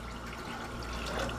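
Water poured into a cooking pot to be boiled, three cups filling it in a steady, continuous liquid rush that stays close and even throughout the short moment, with no talking.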